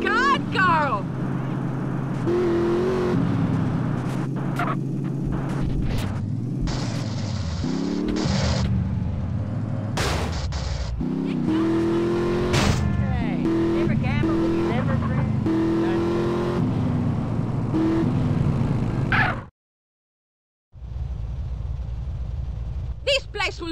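A car driving in the video game GTA San Andreas, with a continuous engine drone that rises and falls alongside tyre and traffic noise. It is loud and steady, briefly cuts out near the end, and voices talk over it.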